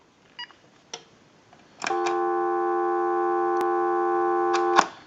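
A few faint clicks and beeps from a Uniden EX965 cordless telephone, then a steady dial tone holds for about three seconds and ends with a click.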